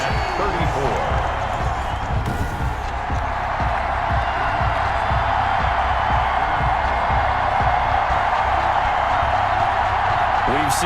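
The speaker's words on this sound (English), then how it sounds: "you can hear the crowd react" A stadium crowd roars steadily after a 55-yard game-tying field goal in Madden NFL 21, a dense continuous cheer with commentators talking over it.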